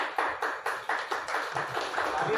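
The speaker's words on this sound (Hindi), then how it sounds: "प्लीज आप अपने लिए ताली बजाएं।" An audience at a workshop on child sexual abuse claps for themselves, a brisk run of sharp, evenly spaced claps that thickens into a brief spell of overlapping applause.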